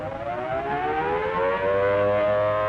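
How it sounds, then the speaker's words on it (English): A loud air raid siren wails during a blackout in a 1942 radio drama, its tone rising steadily as it winds up, with faint background noise beneath. "We must stand by for the sirens."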